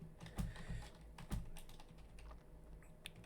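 Soft, close clacking of a computer keyboard, a few scattered keystrokes with a couple of heavier presses, fairly quiet with no voices.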